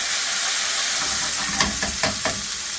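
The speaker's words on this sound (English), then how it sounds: "Flatten out your ginger and garlic, nice and splashy." Ginger and garlic fry in a pan over medium-high heat, giving a steady close sizzle and hiss, with a few louder spattering bursts near the end.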